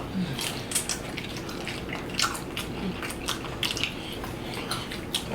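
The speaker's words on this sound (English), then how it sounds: "The skin is crunchy." Crunchy skin of a BBQ fried Cornish hen being chewed up close, a series of crisp, irregular crackles and bites over a quiet background.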